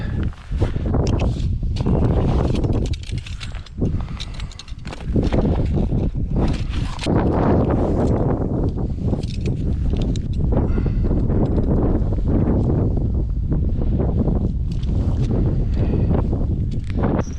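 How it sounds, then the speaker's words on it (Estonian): Strong, gusty wind buffets the microphone on a riverbank during a vimba bream fishing trip on the Kasari river, a loud, continuous roar with rustling that stays steady throughout. "Tuul on jõhker"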